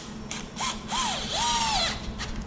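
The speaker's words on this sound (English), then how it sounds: "Got my electric drill, so what I'm gonna do is push this guy in." Several short bursts of a handheld electric drill driving screws into the plastic center differential of a Traxxas Hoss RC truck, each whir rising and falling in pitch, close and clear.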